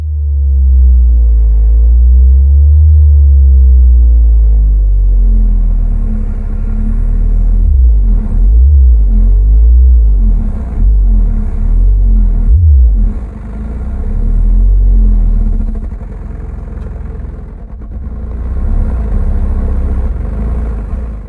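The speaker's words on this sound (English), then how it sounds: "this amplifier sounded great and controlled the W7 subwoofer nice" An MTX Thunder monoblock amplifier drives a W7 subwoofer, pumping loud, deep bass notes and sweeping low tones that rumble continuously for about twenty seconds with no voices.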